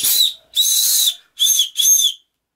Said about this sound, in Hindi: सीटी मिली है